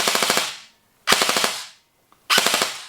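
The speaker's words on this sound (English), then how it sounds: "when you fire it, and as you'll listen in a second, you can hear that spring. It's really, really noisy" A D Boys M4 CQB airsoft rifle fires three short full-auto bursts, each a rapid rattle of about five shots with a loud, noisy spring twang, separated by brief silent pauses.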